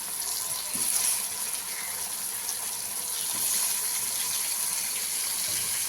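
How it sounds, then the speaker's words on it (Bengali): Whole boiled taro (kochu) fries lightly in oil in a kadai, giving a steady, bright sizzling hiss that swells slightly at moments, with no talking. "হালকা করে একটু ভেজে নেব এগুলো গোটা গোটাই।"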